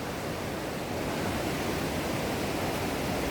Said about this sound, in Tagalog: malapit na tayo sa waterfalls.